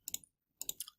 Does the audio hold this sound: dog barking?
no